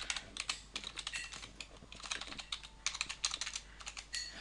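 Rapid typing on a computer keyboard, dense bursts of quick clicking keystrokes close up and fairly quiet, with no talking.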